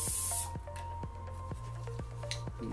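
Hairspray hisses in one short, loud burst over hair to tame flyaways, then stops, leaving a quiet room tone with faint ticks.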